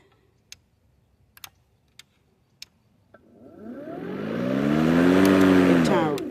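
A lawn mower engine sits quiet behind a few sharp ticks and clicks, then revs up loudly in a rising whine that peaks and holds near the end.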